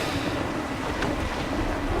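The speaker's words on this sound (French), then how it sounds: "Coup de vent!" Strong wind gust against a sailing ship at sea in Assassin's Creed III, a steady loud roar of wind and water with no voices.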